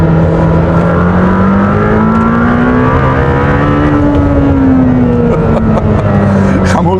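A Lamborghini Temerario V8 revving close to 10,000 rpm, a loud, sustained high-pitched engine howl with the note climbing and then easing slightly, heard up close without talk.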